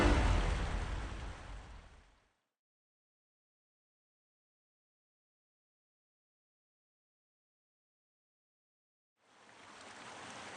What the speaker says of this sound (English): Water rushed in.